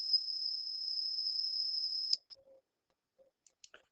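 A steady, piercing test tone at about 5,000 hertz plays loud and unbroken for roughly two seconds, then cuts off, leaving a few faint clicks and small noises.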